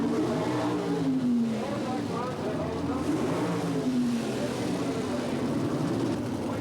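Two Chevrolet Monza gas coupe sedan drag cars idle and rev at the starting line of the NHRA Spring Nationals, a steady engine drone with rising and falling pitch sweeps under continuous announcer talk.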